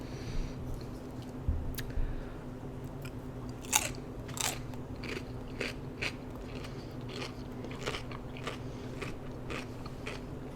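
Udon noodles and dumplings in broth being eaten close to the mic, with steady wet chewing, biting and slurping crunches repeating throughout over a low constant background hum.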